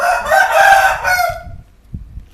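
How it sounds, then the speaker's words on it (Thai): A rooster crows loudly and close by, one long rising call that cuts off abruptly, followed by a few soft low knocks. "เสียงไก่กระดังเลย"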